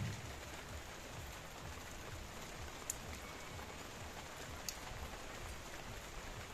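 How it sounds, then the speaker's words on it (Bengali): Rain falls on indoor houseplants with a soft, steady, even hiss and a couple of faint ticks of drops, quiet and continuous, with no voices. "গাছ বৃষ্টির জলে ভিজে যাচ্ছে"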